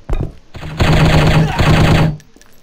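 Video game gunfire in Striker chapter 2, a few single shots and then a long rapid automatic burst, loud and close, broken by a brief pause before firing resumes.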